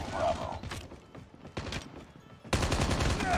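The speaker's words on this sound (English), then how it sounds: "Oh crap, I got shot in the back." Rapid gunfire bursts from a Call of Duty Mobile match, repeated loud shots with a dense volley at the end, close and punchy with no talking.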